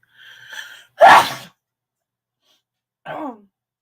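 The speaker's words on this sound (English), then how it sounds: "I'm gonna sneeze." A single sharp sneeze, preceded by a soft breathy intake and followed a moment later by a short vocal sound, close and otherwise quiet.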